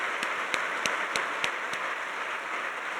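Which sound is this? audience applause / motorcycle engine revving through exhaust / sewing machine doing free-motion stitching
audience applause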